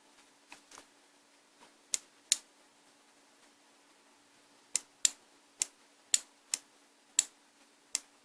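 Sharp, quiet clicks come in an irregular series, a few early and a steadier run later, an electromagnetic relay snapping on and off nearby inside a Winix DHB109 dehumidifier that won't power on.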